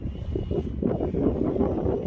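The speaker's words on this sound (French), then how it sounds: "Il y a pas mal de vent quand même," Strong outdoor wind buffets the microphone in a continuous low rumbling roar with faint rustling, heard steady and close for a couple of seconds.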